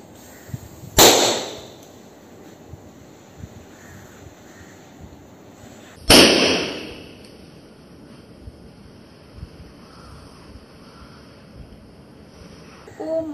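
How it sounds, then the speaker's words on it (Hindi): Balloons bursting during a balloon-popping challenge, two sharp loud pops about five seconds apart, each with a brief ringing tail, over quiet room background. "बैलून फुलाओ, फोड़ो, दूर से तो मजा आता है"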